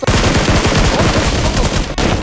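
Loud, close, rapid automatic gunfire from the mobile game PUBG Mobile, a dense continuous burst of shots with a brief gap near the end before firing resumes.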